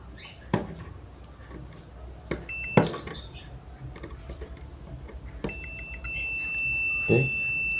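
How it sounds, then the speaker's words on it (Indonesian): A multimeter tests the speaker of an LG super slim TV, giving a brief beep and later a steady high continuity tone, mixed with handling clicks and thumps nearby. "terbaca dan avometer berbunyi, berarti speakernya masih bagus"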